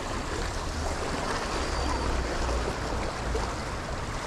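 A calm sea laps at the shore in Manzanillo, with a steady wash of gentle surf and a low rumble, maybe some wind, continuous and fairly close, with no talking.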